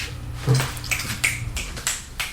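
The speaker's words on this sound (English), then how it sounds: "Everybody give a little finger snap. Yeah, snap your fingers when you hear a deep thought." Several crisp finger snaps ring out in an uneven rhythm, close and distinct, one slightly heavier than the others, with no talking in between.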